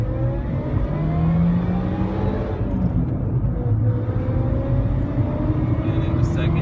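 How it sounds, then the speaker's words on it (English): A VW Golf Mk3 accelerates hard in first gear on a road, its engine note climbing steadily in a loud, close drone from inside the car while someone talks over it. "we're gonna really blast off here in first gear"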